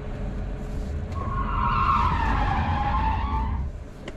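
Tires squeal loudly as an electric car drifts, a single sustained skid that swells and then fades over a low rumble, with no talk.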